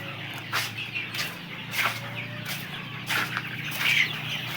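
Young chickens and ducklings at a poultry seller, several birds clucking and chirping nearby in short irregular calls, with some wing flapping and no talking.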